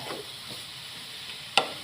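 Grated carrots stirred with ghee in a small wok for gajar halwa, giving a faint, soft scraping sizzle with one sharp clink of a utensil near the end.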